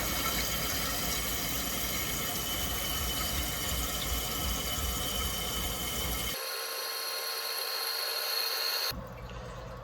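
Toilet tank refilling after its shutoff valve is opened, a steady loud rushing hiss of water that cuts abruptly to a thinner, quieter flow near the end.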